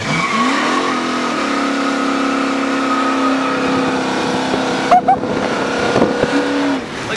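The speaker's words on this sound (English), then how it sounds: "He's about to do a burnout." Loud, steady engine roar from a 1965 Pontiac GTO doing a burnout, sustained high revving with tire squeal and small knocks near the end, recorded close, with no clear talking.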